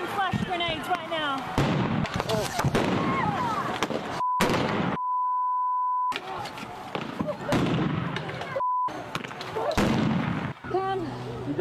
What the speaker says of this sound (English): throwing flash grenades right now